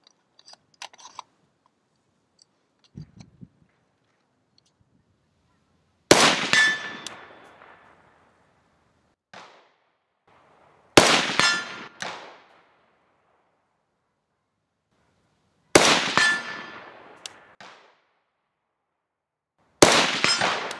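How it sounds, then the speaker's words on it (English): AK rifle shots strike steel targets at an outdoor range: four sharp reports, each with a ringing metallic clang, spaced a few seconds apart, with quiet gaps and faint knocks between. "Let's put it on here and shoot the steel"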